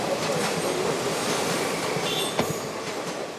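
A train passes close by with a dense rolling rumble and rattling wheels, a faint metallic squeal, and a sharp clack near the end.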